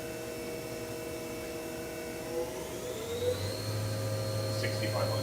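A 2012 Hyundai WIA VX500 CNC machining center with a 20 horsepower spindle runs at around 4,000 RPM, a steady tonal whine and hum that rises in pitch as it speeds up, with someone talking faintly.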